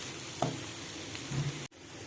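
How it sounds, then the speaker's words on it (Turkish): Steady sizzling of onions and peppers frying in a pan, a continuous crackling hiss with a brief stir-like clatter, then a momentary drop before the sizzle resumes. "Soğanlarımızı biberlerimizi güzelce kavuruyoruz."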